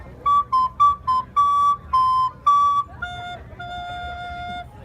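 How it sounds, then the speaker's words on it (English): A person whistles a short theme tune for a story character: a string of quick choppy notes, then a few longer held tones, clear and close in an otherwise quiet room. "I'm playing Loosemore's theme music"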